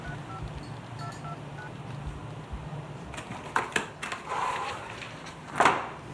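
A telephone is dialed to order pizza: a quick run of keypad beeps at the start, followed by a few sharp clicks and clatters of handling.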